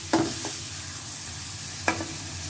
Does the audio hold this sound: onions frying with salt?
yes